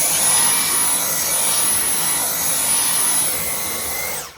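A Dyson or Numatic vacuum cleaner runs indoors with a steady, loud whooshing hiss and a high whine held throughout, then cuts off at the end, with no one speaking.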